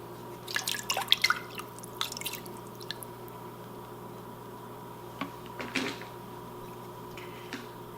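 Liquid drips from a tablespoon while pho is being cooked, giving small, close, irregular drops and taps, clustered at first and then scattered, over a low steady hum.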